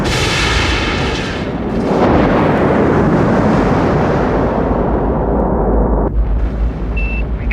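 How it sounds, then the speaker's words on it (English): An Apollo Saturn V rocket launching with a roar: a loud, continuous, deep rumbling thunder that swells and holds steady, heard alone without voices. "you can actually feel the ground vibrate miles and miles away from the launch pad"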